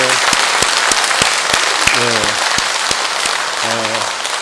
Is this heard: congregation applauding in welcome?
yes